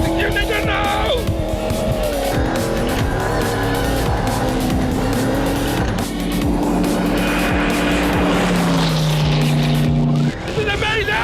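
A car drives hard on sand toward a dune for Dakar rally training, its engine roaring loudly and revving up and down, with tyres scrabbling, while people talk over the noise.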